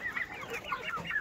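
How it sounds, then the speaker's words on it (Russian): Young chicks being moved into a henhouse cluck and peep softly in a quick, uneven series of small calls, close by and faint, with no talking over them. "там поменьше цыплята."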